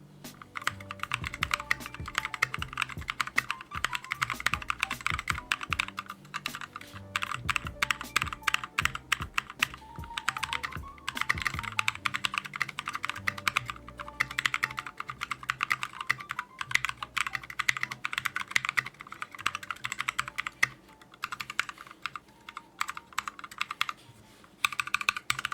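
A $120 mechanical keyboard is typed on continuously, producing rapid, crisp clacks in irregular bursts with short pauses, close and alone without speech.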